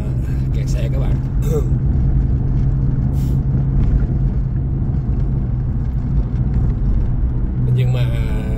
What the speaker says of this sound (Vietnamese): Sáng nào đi làm thì cũng không có tránh khỏi tình trạng